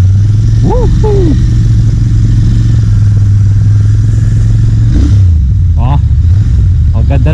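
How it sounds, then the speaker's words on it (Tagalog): A Royal Enfield Interceptor 650 twin idles with a deep, steady, continuous rumble close to the microphone, a shift in engine note near the end, and people speaking and cheering over it. "This is a classic bike by Royal Enfield. Ito po ang ating Interceptor 650cc."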